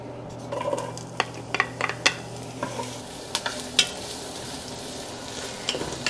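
Onions go into hot oil in a heated Dutch oven with a low sizzle, while a utensil scrapes and clinks against the pot in scattered, irregular strokes.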